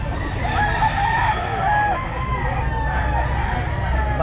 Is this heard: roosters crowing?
yes